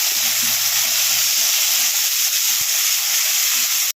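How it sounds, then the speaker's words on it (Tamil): Tomatoes and grated coconut sauté in a pan for tomato thokku. A loud, dense, hissing sizzle holds steady throughout with a few faint low stirring knocks underneath, then cuts off abruptly at the end. No one talks. "சேர்த்துட்டு சேர்த்துட்டு எல்லாத்தையும் நல்லா வதக்கிக்கலாம்"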